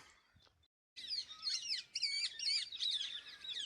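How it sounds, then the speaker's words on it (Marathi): Many parrots screech and chatter from trees along the Narmada river route, a flock of overlapping shrill calls rising after a brief quiet start, moderately distant and continuous, with no talk. "इतक्या मोठ्या प्रमाणात पोपट आहे इथे"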